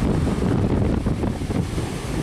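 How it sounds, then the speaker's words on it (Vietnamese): Strong storm wind buffets a fishing boat out at sea, a steady, loud broadband roar with gusty surges and low rumble throughout, no voices. "Bây giờ thì gió càng lúc càng mạnh"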